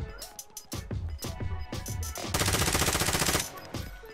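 Gunfire in a squad shooter video game, with rapid repeated shots in short bursts, then a sustained dense automatic volley before more scattered shots, loud and close.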